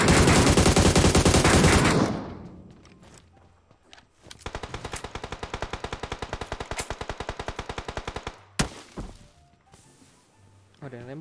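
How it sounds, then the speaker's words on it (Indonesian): Rapid automatic gunfire in a shooter video game, with a loud sustained burst followed by a long, steady string of evenly spaced shots and a few scattered single reports, alongside occasional game sounds. "ada yang nembak ke belakang"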